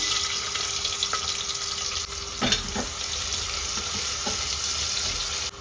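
Chopped onion with cinnamon and cloves fries in oil in a pan, giving a steady close sizzle with a few light clinks and stirring taps, and no voices.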